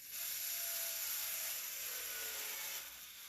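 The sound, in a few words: power drill driving a screw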